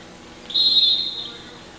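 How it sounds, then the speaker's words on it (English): A referee's whistle blows once at a high school boys' basketball game, a sharp, loud blast lasting under a second over quiet gym background, with no speech. "And we got a whistle, foul out in front."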